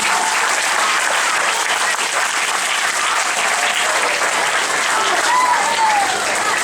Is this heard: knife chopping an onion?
no